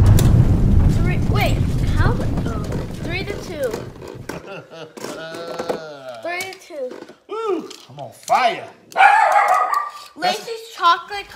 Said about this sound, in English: that's our dog right here, barking out the window